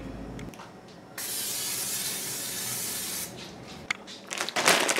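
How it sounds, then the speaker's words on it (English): Olive oil cooking spray sprayed into a crock pot, one continuous close hissing burst of about two seconds, followed by light clatter and handling sounds. "I do spray my crock pot with a little bit of cooking spray"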